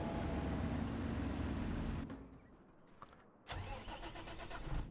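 A tractor engine in Farming Simulator 25 runs loud and steady, then shuts off and drops to a low rumble, followed by another engine starting up and idling close by.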